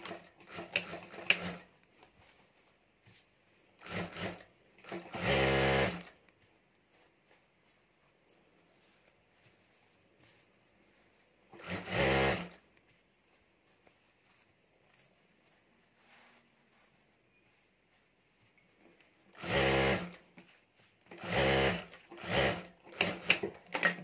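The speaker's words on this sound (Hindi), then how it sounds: "और अब इसके नीचे हमें दूसरी सिलाई कर देनी है" A sewing machine stitching a cloth potli bag: several short bursts of fast, rattling stitching spread across long quiet gaps, close and moderate in loudness, with no talking.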